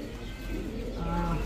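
Pigeons cooing softly at a pigeon farm, a brief low throaty coo over a faint background murmur in a short close-up moment.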